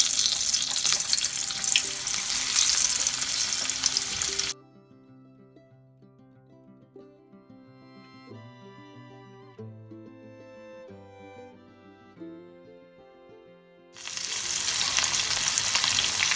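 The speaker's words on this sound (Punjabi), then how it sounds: "ਹੁਣ ਆਪਾਂ ਕਰੇਲਿਆਂ ਨੂੰ ਫਰਾਈ ਕਰਾਂਗੇ।" Bitter gourds frying in a little oil in a frying pan, a steady loud sizzle at the start and end with a quieter stretch of tonal sound in between.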